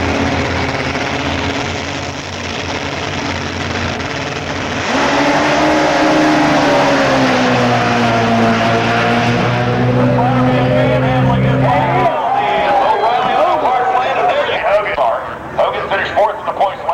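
A drag racing motorcycle on a solo bye run at Memphis Motorsports Park, a loud sustained engine roar that climbs in pitch as it accelerates down the strip, with an announcer talking over it.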